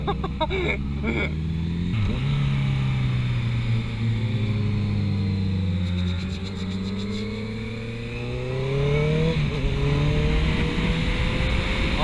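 Honda CBR650F motorcycles accelerating on a road trip, their engines rising through the gears in repeated sweeps with gear changes between, close and fairly loud with wind noise behind.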